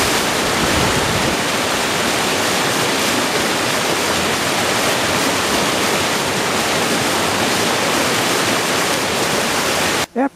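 River rapids rush steadily and loudly, a dense unbroken roar of churning water that fills the whole stretch without voices.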